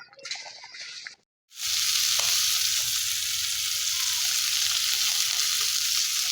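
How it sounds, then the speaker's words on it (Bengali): Tengra fish frying in hot oil: a brief hiss, a moment of quiet, then a loud, steady, dense sizzle that continues evenly and close up. "মাছগুলো এখন ভেজে নিচ্ছি।"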